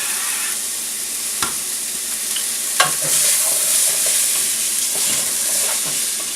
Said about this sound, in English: That'll sweat the onions out a little bit.